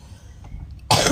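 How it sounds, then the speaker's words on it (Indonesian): A single sharp cough bursts out near the end, loud and close, after a moment of low, muffled room noise. "Maaf aku batuk ya sayang, maaf aku lagi batuk juga."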